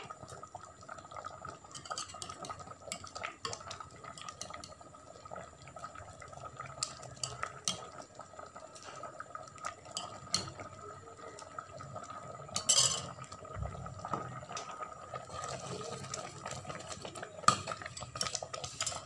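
A ladle scooping unsweetened kheer from a pot into a bowl in a village home kitchen, with faint metallic scrapes, clinks and soft liquid sloshes spread irregularly over a quiet background.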